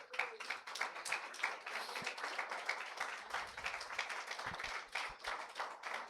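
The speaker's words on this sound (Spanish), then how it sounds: "Denle un aplauso al Señor." Congregation in a Cancún church claps together in a fairly quiet, rhythmic burst of individual hand claps, distinct slaps repeating steadily throughout with a few low thumps, no voices over it.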